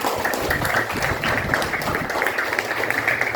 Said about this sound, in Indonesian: kasih tepuk tangan dong buat kita semua